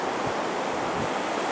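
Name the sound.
ocean waves breaking on Gulf beach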